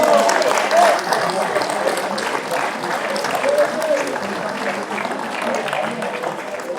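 Audience applause for the Master 45 category at a podium ceremony of the Dirtlej Epic Enduro 2025 race, loud continuous clapping from a crowd that slowly eases off, with a few whistles and voices mixed in.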